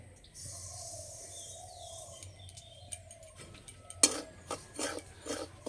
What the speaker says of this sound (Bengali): সুজিটা কিছুক্ষণ ভেজে নেব